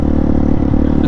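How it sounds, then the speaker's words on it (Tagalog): Rusi KRY200 motorcycle engine running rough and misfiring, a loud, close, uneven idle with a low throbbing rumble and irregular clattering pulses, no voices. "Nagpapalya-palya."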